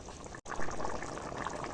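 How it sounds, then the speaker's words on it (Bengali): Rohu fish pieces with vegetable stalks simmering in curry in a pan, a steady soft bubbling and sizzle that carries on evenly without a break. "এবারে মাছগুলো দিয়ে দেবো মাছটা দেওয়ার পরে আমি আবারও তিন থেকে চার মিনিটের মতো জাল দিয়ে নেব"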